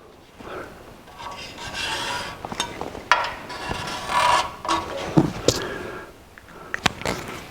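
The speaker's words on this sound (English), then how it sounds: "we'll draw a black Sharpie line" A black Sharpie marker drawn along a ruler clamped to the metal front cross member of a 1949 Chevrolet Gasser, heard as close rubbing, squeaky strokes with small knocks and clicks in between.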